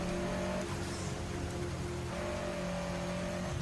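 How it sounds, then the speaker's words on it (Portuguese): Steady rain patter with a car engine droning underneath, the engine tone rising and settling twice, fairly quiet and without voices. "Só eu, o carro, a chuva caindo e o som do motor"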